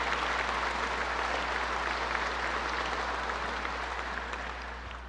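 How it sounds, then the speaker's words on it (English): A crowd at a governor's announcement about JFK airport gives a sustained round of applause, broad and even clapping with a low steady hum beneath, fading slightly near the end. "give Chairman O'Toole and the Port Authority Board a big round of applause"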